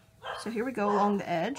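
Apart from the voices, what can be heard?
dog barking in the background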